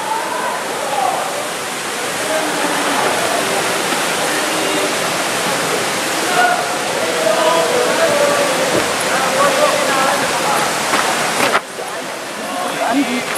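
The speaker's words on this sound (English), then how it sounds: "Yes, we made it to King David's waterfall." King David's waterfall in Israel roars as a dense, steady rush of falling water. Voices talk faintly beneath the continuous wash.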